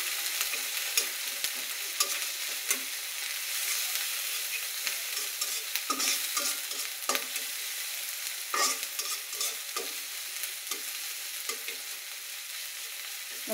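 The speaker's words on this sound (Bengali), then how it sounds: "এবার কাঁচা গন্ধটা যাওয়া অবধি আমি ভালো করে ভেজে নেব" Spice paste of garlic, ginger, green chilli and cumin frying in a pan, a dense continuous sizzle and hiss with frequent scraping stirs of a spoon, close and unbroken, no voices.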